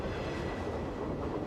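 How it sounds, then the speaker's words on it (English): A westbound Santa Fe freight train rounds Sullivan's Curve, heard as a steady, distant low rumble with a broad wash of rolling noise and no distinct horn or clanks. "This particular train passing around Sullivan's Curve illustrates extremely well the practice of power sharing"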